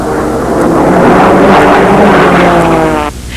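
Racing model aircraft engines at the Brodak fly-in scream loudly and continuously, a close, buzzing high-pitched drone that holds steady for several seconds before dropping off near the end.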